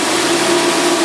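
Loud, steady engine drone from a motor fitted with a Holley four-barrel carburetor, running on a dynamometer, holding an even pitch throughout with no talk.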